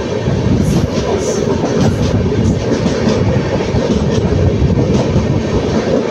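A passenger train on the Salem to Bangalore line runs on its rails, heard from on board as a loud, continuous low rumble with faint rhythmic clatter over the whole stretch.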